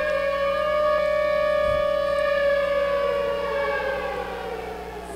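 A loud wailing siren in the video game Block Fortress rises and falls steadily and continuously, gradually fading a little toward the end, with no voices.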